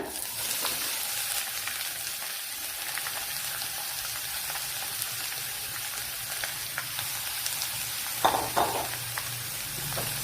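Onions frying with curry leaves in a pan for a Kerala onion egg dish, a soft, steady sizzle throughout with a brief louder clatter near the end.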